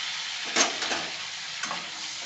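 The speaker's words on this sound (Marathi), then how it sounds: "आपलं टोमॅटो आम्ही फुल गॅसवर एक तीन ते चार मिनिट चांगलं भाजून घेऊ" Tomatoes frying in oil over full heat for paneer masala, a quiet hissing sizzle broken by a couple of stirring scrapes in the pan, with no voices.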